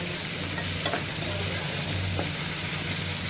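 Chopped onions and green chillies fry loudly in a pan for poha, giving a dense, continuous sizzle with a couple of faint stirring knocks and no voices.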